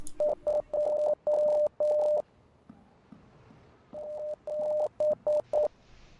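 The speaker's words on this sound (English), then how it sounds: "Morse code." Morse code beeps from the horror video game Rise of Insanity: clear, steady electronic tones in groups of short and longer pulses, separated by a brief pause, loud and alone.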